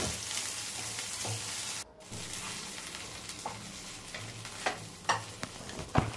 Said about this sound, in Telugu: ఇది కూడా ఒక నిమిషం అయితే ఫ్రై చేసుకుని